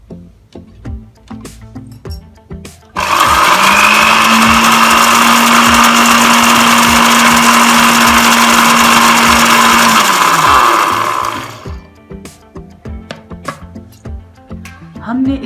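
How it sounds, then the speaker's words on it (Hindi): A blender whirs loud and steady for about eight seconds, mixing homemade mayonnaise with lemon juice and vinegar, then winds down, with quieter clatter before and after. "अच्छा सा ब्लेंड देते हैं इसे।"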